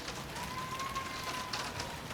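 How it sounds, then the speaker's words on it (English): Rain falling outdoors during a lightning storm, a dense, even patter and hiss that stays constant throughout, with a faint high tone passing briefly; no talking. "The rain is also started."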